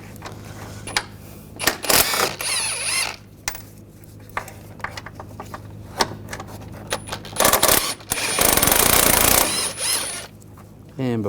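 Ratcheting socket wrench with a 13mm socket backing out strut mount bolts on a Volkswagen Tiguan, giving repeated bursts of clicking and metallic clatter with a longer loud rattle near the end, close and intermittent.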